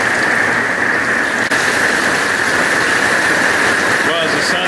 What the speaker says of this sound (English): the rain is picking up again, and the wind is picking up too